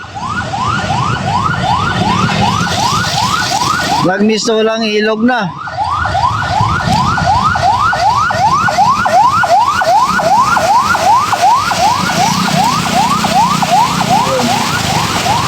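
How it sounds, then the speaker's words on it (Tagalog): An ambulance siren wails in a fast repeating rising sweep through flooded, jammed traffic on Quirino Avenue in Manila, loud and close and steady throughout, briefly interrupted by a harsher warbling burst, with someone talking over it. "May may ambulansya pa."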